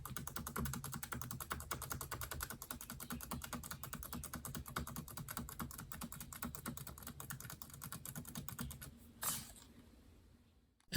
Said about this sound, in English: I could simply just mash my arrow keys as if I'm playing some weird rhythm game